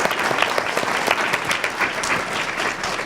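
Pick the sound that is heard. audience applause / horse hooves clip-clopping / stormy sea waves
audience applause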